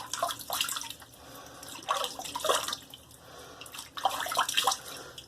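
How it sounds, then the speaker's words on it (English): Water splashes in a few short bursts as a face is wet before a shave at the sink, soft irregular splashing and dripping close by with quiet pauses between. "Alright, let's wet the face."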